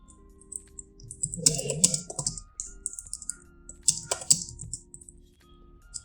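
Typing on a computer keyboard, close and fairly loud: two clustered bursts of rapid key clicks with quiet gaps between them and no talking.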